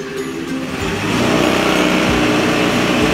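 A Honda Activa scooter engine idles steadily after starting, a loud, close, continuous buzzing hum that rises slightly and holds even, with no speech over it.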